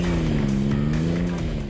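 Rage Cyclone R70T buggy powered by a Suzuki K-Series engine with CVT automatic, giving a steady, loud engine drone with a strong low harmonic hum that holds pitch and dips slightly near the end, with no talk.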